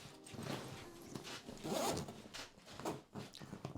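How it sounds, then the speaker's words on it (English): A zipper on the main compartment of a Cotopaxi Allpa 35L travel backpack, made from recycled materials, is drawn closed in a few quick rasping pulls, close and clear with no talking. "if I zip this up again"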